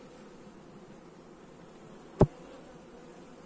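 Honeybees cluster on a wooden hive frame during colony consolidation, making a faint, steady hum. A single sharp knock or tap cuts through briefly partway through.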